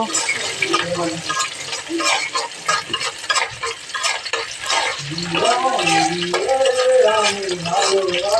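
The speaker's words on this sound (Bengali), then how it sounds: "পেঁয়াজটা সুন্দর করে ভেজে নিব।" Sliced onion frying in a pan for a meat dish, a moderate sizzle with stirring scrapes and clatter, joined later by a voice talking over the cooking.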